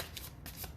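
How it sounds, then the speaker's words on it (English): Tarot cards being shuffled by hand, a quick riffling flutter of papery flicks in close, soft bursts over less than a second. "Give these cards a good shuffle."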